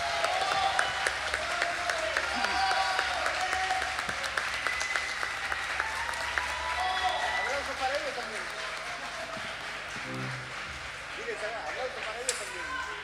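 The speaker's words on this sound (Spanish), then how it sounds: "Y quiero por favor que le den un tremendo aplauso a todos estos músicos maravillosos." Concert audience at Teatro San Martín applauds the musicians, a sustained crowd clapping that runs for over ten seconds beneath voices and low background tones, thinning toward the end.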